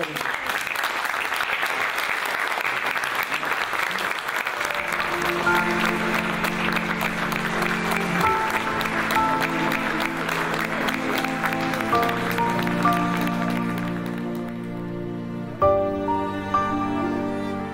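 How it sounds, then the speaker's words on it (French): An audience applauds at a tribute event, loud and sustained, like a full room clapping together. Near the middle, music comes in with held tones underneath the applause, and toward the end the clapping fades and the music carries on alone. "On applaudit."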